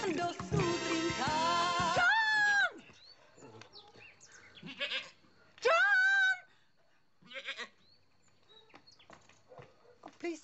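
A goat bleats in long, wavering cries, one running about two and a half seconds and another shorter call a few seconds later, loud and near, with scattered voices and background noise between them.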